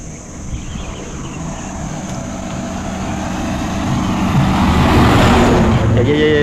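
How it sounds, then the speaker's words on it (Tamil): Bus passing at night on the Bhavanisagar forest road, a broad rumbling roar that swells steadily louder as it approaches, with no voices over it. "இப்போ ஒரு பஸ் வருது அதை விட சவுண்டு கேட்குமே இது"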